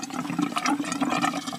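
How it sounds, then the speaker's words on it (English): Water pump on a Mobilvetta Driver 52 motorhome running against an empty main tank during a winter drain-down, giving a steady gurgling, sucking rush of air and water through the pipe, close and continuous. "You can hear the pump there scavenging inside the main tank."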